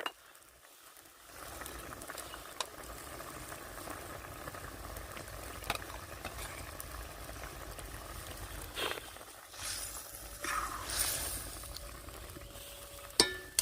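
Pabda fish curry sizzling and bubbling in a pan as mustard paste goes in, a faint steady crackle with occasional stirring clinks and a brief louder hiss toward the end.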